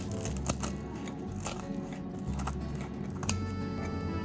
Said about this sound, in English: Oh, listen to that crunch.